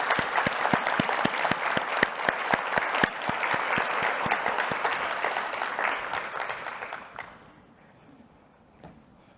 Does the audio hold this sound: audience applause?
yes